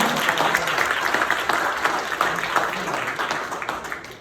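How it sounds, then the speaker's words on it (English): Audience at a founders community event clapping, a dense, continuous stretch of applause from many people that holds steady throughout. "a bit clapping would help. A lot of clapping."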